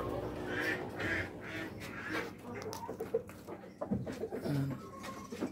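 Rhode Island Red chickens in a breeder cage cluck and squawk close by, with several birds calling over one another and a few louder clucks toward the end.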